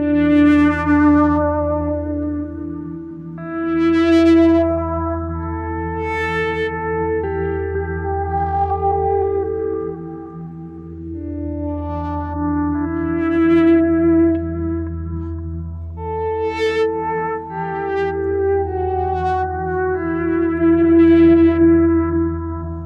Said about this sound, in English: You can already hear that swirling.